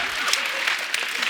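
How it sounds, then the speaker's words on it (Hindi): A studio audience claps in a brisk burst of applause, steady and fairly close for a short stretch, with a voice faintly present beneath it. "इनके लिए जोरदार ताली"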